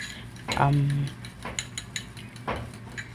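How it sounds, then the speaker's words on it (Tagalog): Egg being mixed with a splash of evaporated milk in a bowl, giving a few brief clinking strikes of a utensil against the dish, close up, with no talk over them. "i-mix lang po natin para ma-mix yung ingredients niya"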